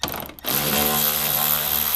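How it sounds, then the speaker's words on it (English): Torx bolt being run out with a T30 Torx bit from a 2016-or-later Toyota Tacoma panel: a brief click, then a steady whirring power-driver buzz with a ratcheting texture, close and continuous, no speech. "you're going to grab a T30 Torx bit and you're just going to go around at all these different Torx bolts"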